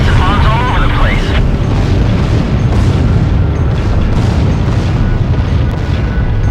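Bombs rain down in the Ace Combat Zero video game, a dense, continuous roar of loud booming explosions blended with engine noise, while a voice talks over it.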